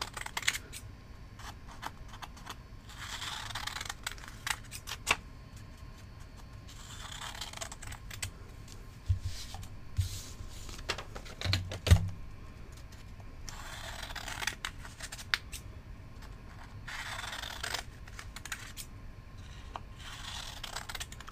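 Scissors snip through paper to make flashcards, a series of short crisp cuts in bursts with rustling paper between them, fairly quiet and close, with no talking.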